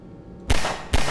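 Two loud, close gunshots in Half-Life 2, sharp booming cracks about half a second apart, each with a short echoing tail, heard alone without talk.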